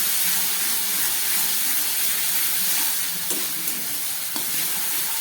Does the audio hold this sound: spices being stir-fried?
yes